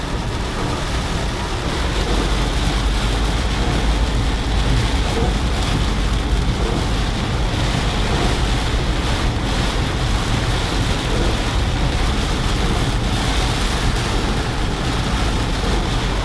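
Heavy storm rain drums steadily on a car in Multan, a dense, loud, unbroken roar with low rumble throughout and no talk.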